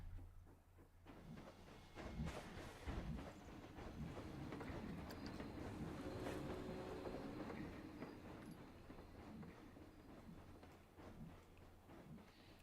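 A steam train runs at a distance below a viewing area, giving a steady low rumble with a faint rhythmic clatter and hiss that holds for the whole stretch, with no talking.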